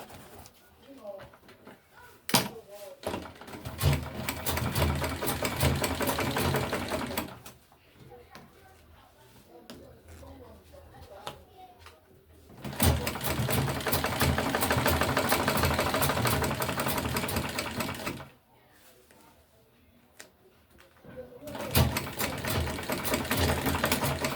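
A sewing machine double stitching a strap onto a tote bag runs in long steady bursts of rapid whirring, pausing between passes, with talk heard in the quieter gaps.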